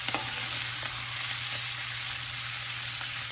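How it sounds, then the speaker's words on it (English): Cabbage frying in butter crackles with a dense, steady sizzle while a utensil stirs it, adding faint scrapes and clicks, close and continuous with no talking. "Remember, you got butter in here, so you've got to keep it stirring because that butter will burn"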